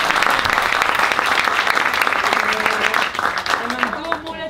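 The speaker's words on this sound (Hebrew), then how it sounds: "עוד מחיאות כפיים לילדים שעבדו ממש קשה" An audience at a school concert for children claps for them, dense sustained applause that fades slightly toward the end while someone speaks over it.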